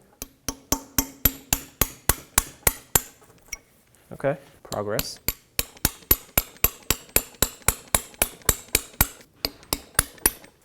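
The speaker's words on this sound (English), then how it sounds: "Let's hammer this side." Repeated sharp metallic hammer blows ring out in a fast, steady rhythm, knocking a lower ball joint loose on a 2008-2010 Ford F-250, pausing briefly while someone speaks, then resuming with dozens more strikes.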